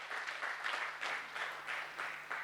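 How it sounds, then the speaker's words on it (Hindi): An audience at a doctors' seminar claps for the speakers, a steady, moderately distant round of applause with no talk over it. "एक बार उन सभी वक्ताओं के लिए तालियां जो यहां पे अपनी बात रख के गए"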